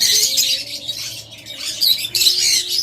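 Lovebirds, a breeding pair of budgies, chirp and squawk in bursts of bright high tweets, close by and busy, with a faint hum underneath.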